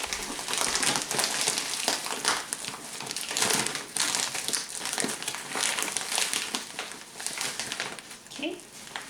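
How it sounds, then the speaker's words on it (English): A plastic feed bag is ripped open and handled while setting up a cheap homemade chicken brooder, a loud close crinkling and tearing that continues throughout, with a voice speaking over it. "And then I'm just going to rip the bag open."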